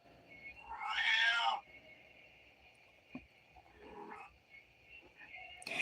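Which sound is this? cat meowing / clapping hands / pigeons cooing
cat meowing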